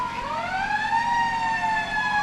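A wailing emergency-vehicle siren sweeps up and holds steady at a Christmas parade in Kingston, loud and sustained as the fire trucks pass, with no voices over it.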